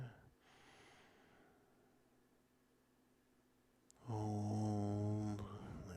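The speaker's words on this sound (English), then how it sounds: "And another deep breath in" A slow, deep breath drawn in, a soft airy inhale that swells into a loud, close breathy rush near the end.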